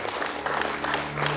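Audience clapping during a prize presentation at a public lecture, a short, dense burst of applause from a seated crowd, fairly soft and even.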